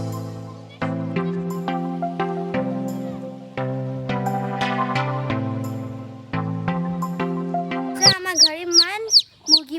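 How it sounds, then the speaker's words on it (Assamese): Chicks at a home peep in quick, high rising chirps near the end, following a long stretch of steady tonal music. "চোৱাচোন আইতাৰ ঘৰত থকা মুৰ্গী পোৱালিবোৰ ইমান মৰম লাগিছে"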